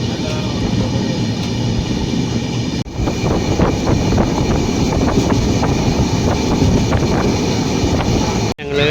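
A moving passenger train carries its riders toward Rameswaram and Dhanushkodi, with a loud, continuous rumble of wheels and carriage, wind buffeting the microphone, and two brief dropouts.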